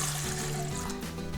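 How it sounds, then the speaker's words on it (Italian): Water poured into a stand mixer bowl while making a Neapolitan tortano dough, a short, close, steady trickle and splash of liquid with no talking. "Per prima cosa nella planetaria mettiamo l'acqua"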